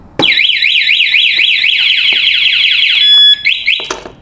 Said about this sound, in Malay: dia punya alarm untuk warning pertama, warning kedua dia